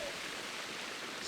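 Water flowing beside a golf putting green, a brief, faint, even hiss with no voices.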